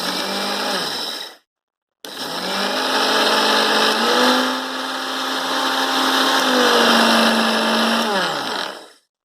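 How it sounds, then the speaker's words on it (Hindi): Preethi mixer-grinder grinding sugar into powder: a loud, high-pitched motor whine in two runs separated by a short silence, the pitch dipping and rising as the load changes, then cutting off. "अब लिड के ऊपर अपना हैंड रखें और मिक्सर को ऑन करें।"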